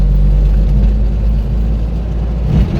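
A Daihatsu Hijet van being driven, heard as a loud, steady low engine drone and road rumble from inside the cab, with little change in pitch throughout.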